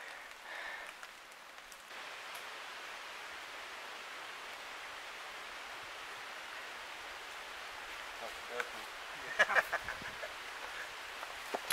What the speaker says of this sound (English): It's literally been raining just on and off